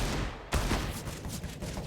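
Counter-Strike match at IEM Cologne 2021 with Galil rifle fire, heard as one loud close shot followed by a dense rattle of further shots and game noise, with no commentary over it.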